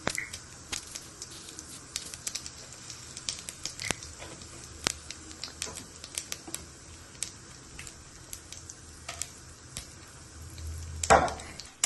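Urad dal, chana dal and dried red chilies sauté in hot oil in a pan, giving a faint, steady sizzle with scattered pops and crackles and a louder stir or scrape near the end.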